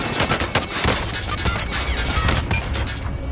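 Dense, loud gunfire from a Modern Warfare video game: rapid, overlapping automatic bursts and sharp cracks run almost without a break, with heavy booms mixed in.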